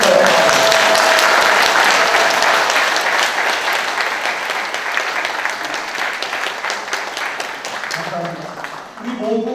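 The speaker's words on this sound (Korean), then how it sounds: "박수 한번 주실까요?" A large audience claps steadily at a Korean foundation launch event lecture, dense sustained applause filling the room and tapering slightly toward the end.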